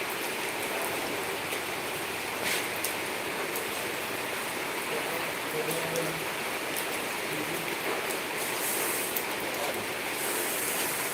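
Rain pours down steadily outdoors while children bathe in it, a constant dense hiss of falling water with occasional faint sounds of activity underneath.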